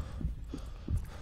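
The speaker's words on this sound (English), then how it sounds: "Heart beating like a motherfucker." A heartbeat effect from the horror game FEAR 2: Project Origin gives four soft, low thumps spaced evenly. They sound close and muffled, with no talk over them.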